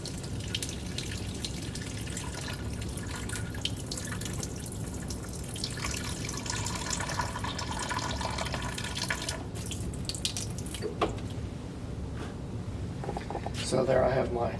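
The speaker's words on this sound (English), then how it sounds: "I'll bring that up now to 528 with deionized water." Deionized water runs from a laboratory tap into a container in a classroom lab: a steady, moderately quiet stream that splashes and trickles for the whole span, with a few louder splashes near the end.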